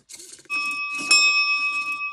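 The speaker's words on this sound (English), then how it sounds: "I want to make this guy a doorbell using this bell." A small bell fitted to a homemade maneki-neko lucky cat doorbell strikes twice with a clear metallic ding. The tone rings on sustained and slowly fades, alone and close.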